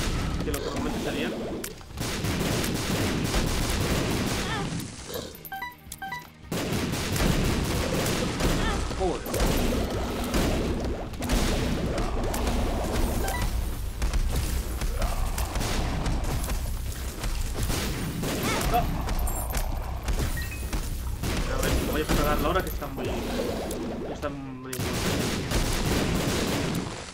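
Bomb explosions in The Binding of Isaac, playing as Maggy in Greedier mode: repeated heavy blasts and crashes come in bursts through a dense, busy wash of game sound, with a voice talking over much of it.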